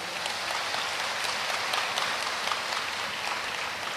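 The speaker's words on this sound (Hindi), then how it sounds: "दरबार के मध्य में जोरदार ताली बजा करके।" Loud, dense applause from a large crowd at a religious discourse gathering in Hyderabad, sustained and even throughout with no talk over it.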